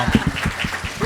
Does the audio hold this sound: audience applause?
yes